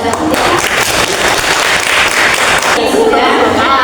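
A class of students claps in an Indonesian classroom after a news-reading exam, loud close applause of many hands with scattered voices mixed in, changing character near the end.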